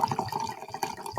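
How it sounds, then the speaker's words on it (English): Sweet wine is poured into a glass in a brief close liquid stream with gentle trickling and splashing, fairly clear and continuous. "I pour you this glass of sweet wine."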